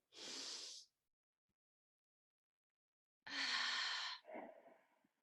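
Deep, close breaths during a guided belly-breathing exercise. One airy breath is followed by silence, then a longer, louder breath trailing into a softer, shorter one, with no talking, in a quiet room.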